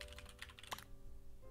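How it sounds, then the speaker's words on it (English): Rapid clicks of typing on a computer keyboard, close and fairly quiet, with a burst of keystrokes and a sharper strike near the middle. "Your angry typing wasn't muted?"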